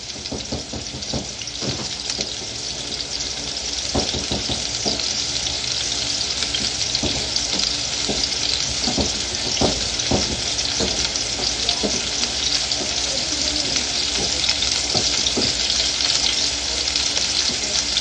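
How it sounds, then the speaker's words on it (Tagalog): Tomatoes fry in a pan with a loud, dense, unbroken sizzle lasting the whole stretch, while frequent knocking stir strokes of a spoon tap through it nearby. "doon mo lagay yung kamatis. Halo."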